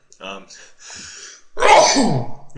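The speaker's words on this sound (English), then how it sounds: "Sorry, I just sneezed." A person makes short vocal sounds, then lets out a loud, close sneeze that trails off into a breathy exhale.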